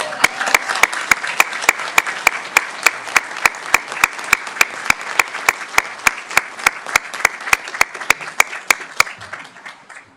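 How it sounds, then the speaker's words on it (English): Applause at a Newark city council meeting as an assemblymember walks in: many hands clap continuously while a regular series of sharp, loud claps near the microphone punctuates it, fading out just before the end. "I think we need to give him a nice big round of applause."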